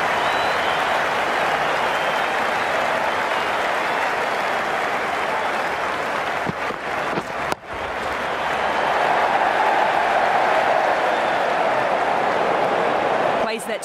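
Sustained crowd applause and cheering from a stadium crowd in the Ashes Cricket video game, loud and continuous for the whole stretch, with a brief dip in the middle before swelling again.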